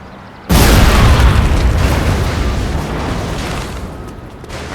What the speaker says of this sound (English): Er legt eine Bombe!